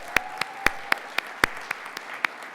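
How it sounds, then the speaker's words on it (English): An audience claps at a university alumni achievement awards ceremony, though only a handful of separate, crisp hand claps ring out at an uneven pace rather than a dense roar, with no talk. "So a big round of applause for all of them."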